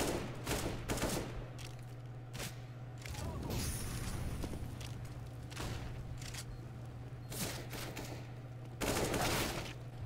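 Gunfire in the video game CS:GO, repeated sharp bursts and single shots scattered through a low steady hum, some louder volleys near the end.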